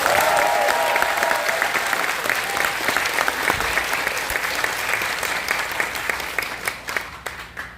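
An audience at a political party supporters' talk concert in Sejong, Chungcheong, bursts into loud sustained applause that gradually thins out toward the end, with a few more distinct claps.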